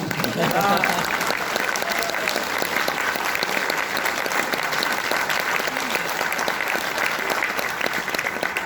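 An audience at a direct-selling business seminar claps in sustained applause, a dense, even patter lasting throughout at moderate loudness.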